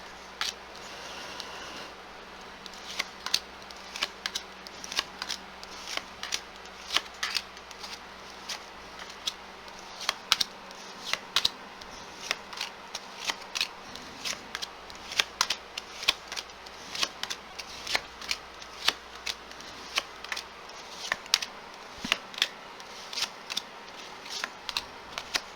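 Tarot cards shuffled repeatedly on a table, a steady run of crisp riffling flicks and slaps at close range, with no voices.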